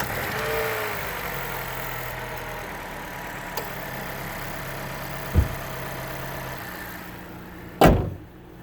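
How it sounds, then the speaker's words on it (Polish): Renault Captur with a 1.3 TCe 155 petrol engine idling steadily, a low even hum throughout, with a couple of short knocks and a sharp clunk near the end. "posłuchajcie jak pracuje silnik."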